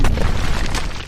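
A deep, booming explosion blast rolls out loud and close, a dense rumble that stays full across its short length with no voices over it.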